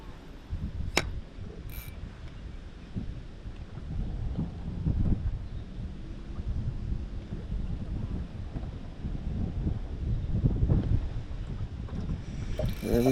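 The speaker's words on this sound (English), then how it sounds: "This wind's just killing the bite." Wind gusts across Laurel Hill Lake while someone fishes from a boat, a steady low rumble and buffeting that swells and eases throughout, with faint knocks from the boat and no clear talking.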